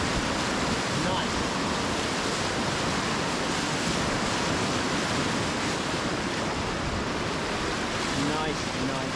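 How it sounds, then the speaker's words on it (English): A river wave rushes and churns steadily around a kayak surfing a stable standing wave, a dense, continuous roar of whitewater with wind buffeting the microphone throughout. "let's see if we can surf the middle wave here"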